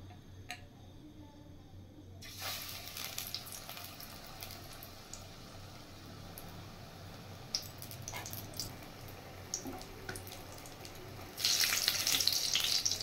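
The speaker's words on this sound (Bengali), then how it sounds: "এগুলো আমি বেসনে ডোবাবো আর তেলে ভাজবো" Besan-coated bitter gourd pieces frying in oil, a quiet steady bubbling sizzle with light ticking pops, which suddenly grows louder and more intense toward the end.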